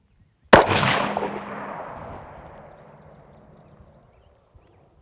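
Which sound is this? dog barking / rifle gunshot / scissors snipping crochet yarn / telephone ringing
rifle gunshot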